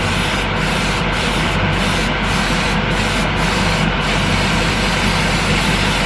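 A loud, continuous airbrush-style spray hiss lays a quick coat over a scale model, steady and close with a few brief interruptions early on and no talking.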